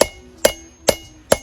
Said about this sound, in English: I'm gonna use a little bit lighter hammer here